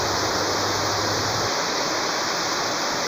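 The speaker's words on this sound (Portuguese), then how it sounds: "essa chuva toda que você tá achando?" Heavy rain pours down steadily during a father-and-son fishing trip, a dense, loud, unbroken hiss of water that fills the whole clip with no voices.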